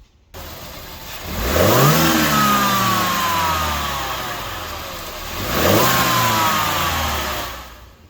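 A BMW E92 engine with its stock air filter revs twice from idle, each rise climbing in pitch and settling back down, loud and close.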